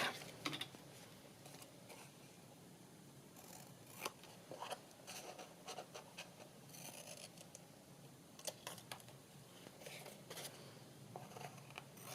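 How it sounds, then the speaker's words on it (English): Scissors trim small bits of paper for a ballet-themed ring-bound journal, faint close snips and paper rustles scattered in irregular bursts over a quiet room background. "let us trim these bits off"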